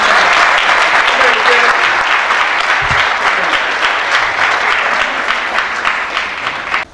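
At an awards dinner, a crowd gives a sustained, loud round of applause for Lieutenant Colonel Carter, the last of the Tuskegee Airmen, dense clapping that continues for several seconds before easing off, with scattered voices underneath.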